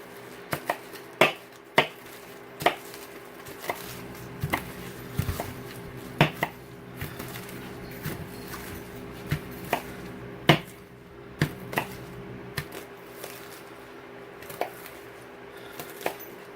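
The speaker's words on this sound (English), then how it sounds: "So now I need to rough chop the leaves." A knife rough-chops herb leaves on a cutting board, steady irregular knocks of the blade hitting the board, close and distinct, with no talking.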